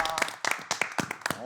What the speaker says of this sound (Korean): 박수 한번 드리죠.